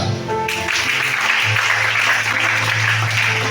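Steady applause from a church congregation at a Sunday worship service in Libreville, Gabon, with many hands clapping in a continuous, even roar and a low sustained tone underneath after a brief opening.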